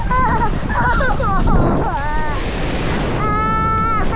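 Steady roar of ocean surf and rushing water at a Belitung beach fills the clip, with children's high voices calling out over the crashing waves.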